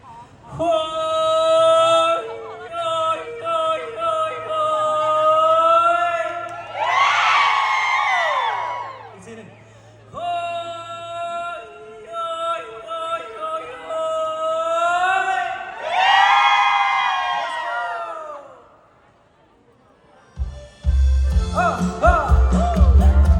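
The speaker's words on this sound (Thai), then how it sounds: "ช่วยโห่ให้ผมหน่อยได้ไหมฮะ" A live concert audience cheering for a singer, with loud sustained collective whoops and hoots rising in repeated waves, separated by brief lulls and followed by a short burst of noise at the end.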